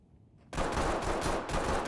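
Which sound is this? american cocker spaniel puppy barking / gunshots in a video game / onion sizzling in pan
gunshots in a video game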